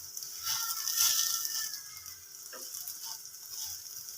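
Homemade pizza fries in oil in a pan on a stove just after being flipped, giving a soft, steady sizzle with light scraping and a brief clatter partway through.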